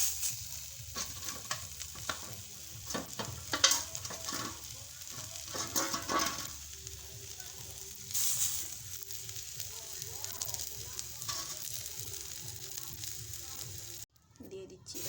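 Battered drumstick-flower fritters fry in a wok of oil in a village kitchen, a soft, continuous sizzle with occasional stirring clicks and scrapes, quiet throughout.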